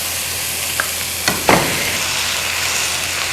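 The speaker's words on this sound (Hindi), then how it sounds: "हमने उबले हुए आलू डाल देने हैं" Half a kilo of boiled, mashed potatoes sizzles in a hot pan with mint and coriander, a steady close fry broken by a few sharp clinks and scrapes of stirring.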